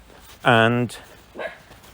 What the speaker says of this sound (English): Oh, great, the dogs are barking.